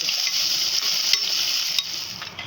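Ingredients sautéed with salt in a pan for a Kerala fish curry: a dense, continuous close sizzle with scraping stirs and a couple of sharp ticks, no voices.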